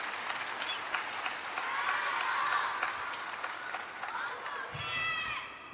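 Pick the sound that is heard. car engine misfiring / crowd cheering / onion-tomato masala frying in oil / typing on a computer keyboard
crowd cheering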